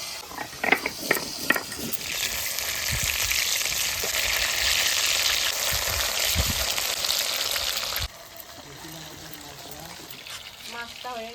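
Fish frying in hot oil in a pan, a steady loud hiss of sizzling that dominates most of the clip before dropping abruptly to a quieter background near the end.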